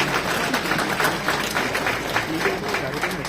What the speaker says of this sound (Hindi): ऐसे तालियां बजाना कि अश्विनी वैष्णव जी को भी सुनाई दे